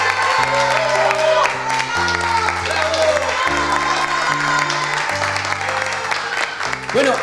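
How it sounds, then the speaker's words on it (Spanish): An audience applauds Yolanda and Ciro at the opening of a restaurant called La Sazón de Yolita, steady loud clapping running the whole time beneath sustained music chords and a few scattered voices. "quiero pedirles fuertes aplausos para ambos"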